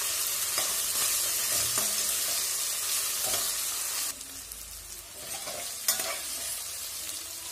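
Vegetables for veg pulao frying in hot oil while being stirred, a steady crackling sizzle with intermittent scraping strokes of the spoon, close and continuous with no talking.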